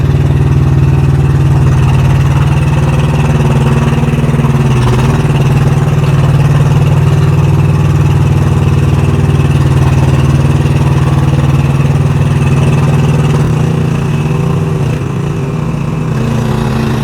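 A scissor lift's engine runs loudly and steadily close at hand, a constant droning hum with a brief dip partway through and slight roughening near the end.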